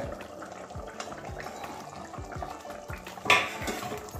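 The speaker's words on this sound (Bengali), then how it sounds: "এবারে আবারও ঢাকনা খুলে নিচ্ছি 3-4 মিনিট পরে" A metal lid lifts off a pot of simmering tamarind and tomato katla fish curry with a sharp clang near the end, after soft clinking and bubbling kitchen sounds.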